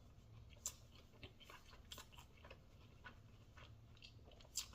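Crunchy bites and chewing of a Taco Bell Crunchwrap Supreme, close and fairly quiet, with a few sharper crunch spikes spread across the stretch.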